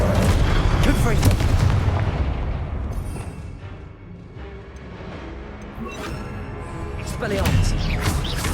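Confringo blasting spells going off in the Hogwarts Legacy video game, heavy booming explosions at the start and again near the end with a rumbling lull between, while a voice speaks.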